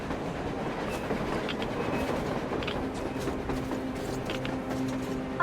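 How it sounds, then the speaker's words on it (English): A train rumbling along on the surface in the game Metro Exodus, a steady low clatter with faint squeals, fairly distant and continuous throughout. "A train! A damn train on the surface!"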